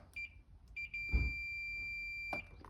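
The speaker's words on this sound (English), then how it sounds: "this one here is the beep" A Fluke multimeter set to continuity mode gives a steady electronic beep, a sustained tone lasting about two seconds, with a short chirp before it and faint handling noise around it.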